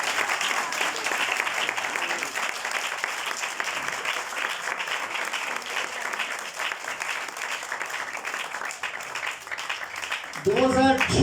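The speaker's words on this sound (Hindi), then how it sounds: "जोरदार तालियां भाई इनोसेंट पाल के लिए।" Loud, sustained applause from a church congregation fills the space for about ten seconds, then a brief burst of voices or music swells in near the end.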